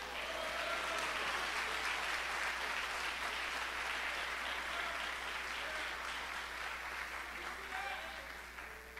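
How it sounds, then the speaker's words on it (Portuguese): A church congregation claps together in sustained, dense applause that holds steady for several seconds before gradually tapering toward the end. "Vocês podem aplaudir a Jesus?"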